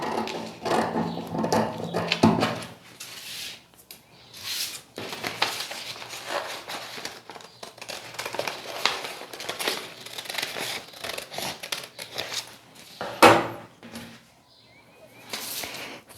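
Scissors cut through a paper pattern for a basic knit blouse, with repeated close snips and crinkling paper handled across the stretch, a louder rustle near the end.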